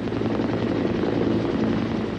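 A Sikorsky H-19 utility helicopter drones loudly and steadily, its rotor giving a continuous pulsing thrum close at hand.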